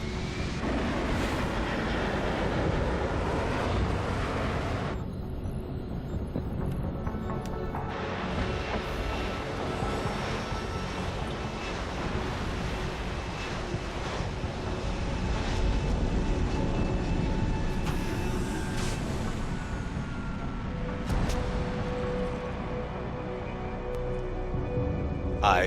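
In the game Deus Ex: Human Revolution, an aircraft prepares to land with a dense, rumbling engine roar that holds steady. A deep mechanical drone shifts slightly over its length, and a few brief tonal whines and clanks sit above it.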